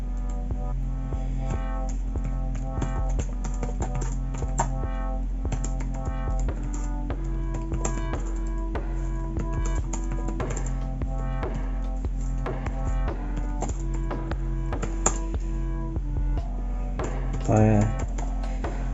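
Rapid, steady key clatter on the standard HP keyboard of an HP Stream X360 netbook, close and continuous throughout, with a brief louder burst of key strikes near the end.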